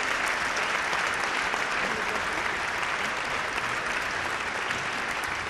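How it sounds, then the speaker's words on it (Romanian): A chamber-music audience applauds steadily after a family cello performance, dense continuous clapping filling the hall at a fairly loud level with no voices over it. "Aplauze pentru muzica de cameră,"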